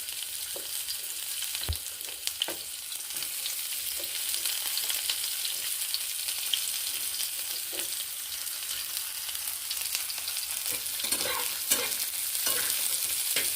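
Chopped onions fry in a pan with a steady, close sizzle that holds for the whole stretch, broken by a few sharp stirring knocks and scrapes, with no voices.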